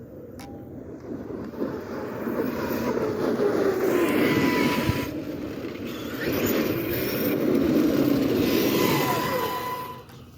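An Arrma Kraton EXB 8S RC car driving near full throttle, its high-pitched electric motor whine rising and falling steadily over about ten seconds with surges of speed, loud and fairly close.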